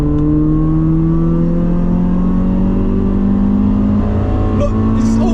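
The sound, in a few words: Toyota Celica VVTL-i engine revving while accelerating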